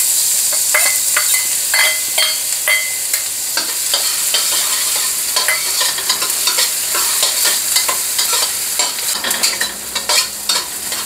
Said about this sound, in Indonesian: Kemudian tuangkan lagi minyak untuk menumis